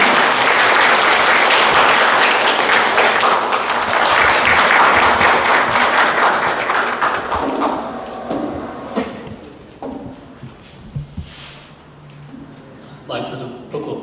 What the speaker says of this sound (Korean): 박수로 맞아주시면 됩니다.